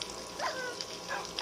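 Dogs barking in a video game, with a few short, fairly faint yelps and barks over a steady background.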